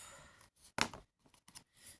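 Scissors cut paper for scrapbooking, with a few quiet, close snips and one sharper, louder cut near the middle, with no talking.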